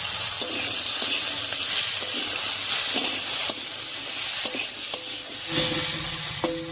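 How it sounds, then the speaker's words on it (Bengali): Chopped onion and cut potato frying together in hot oil over whole spices for a Bengali soybean curry; continuous close sizzle with repeated stirring scrapes and utensil clinks against the pan. "পেঁয়াজ আর আলু একসঙ্গে ভাজা হয়ে যাবে।"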